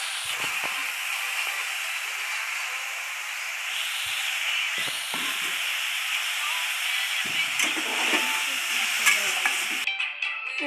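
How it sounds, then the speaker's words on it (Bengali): Pumpkin greens frying with onion and garlic in a pan, a steady hissing sizzle that runs continuously, with occasional stirring scrapes and clinks toward the end. "কুমড়ো শাক পেঁয়াজ রসুন দিয়ে ভেজেছে"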